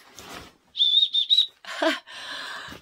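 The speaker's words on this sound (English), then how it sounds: "I didn't know it's a whistle." A shrill whistle built into a hiking backpack strap sounds in three quick high blasts, followed by a couple of rougher, breathier toots, close and loud.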